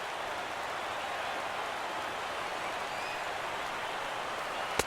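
A sold-out stadium crowd of 41,800 rises at a New York Mets ballpark in Flushing in the MLB The Show 17 baseball video game, a steady dense roar of cheering and applause throughout with one sharp crack near the end.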